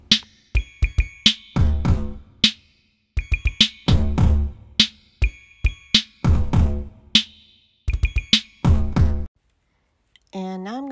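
Electronic drum sounds triggered by an RTOM trigger on a practice pad: loud, sharp hits in quick rhythmic bursts with short ringing tones, separated by brief pauses. A wavering electronic tone follows at the end.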